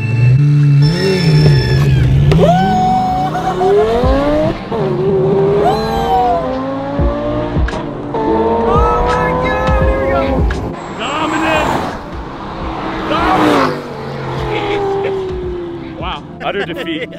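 A Tesla drag race with tire squeal, a high whining electric motor and screeching tires sweeping up and down across several pulls, with excited voices shouting over it.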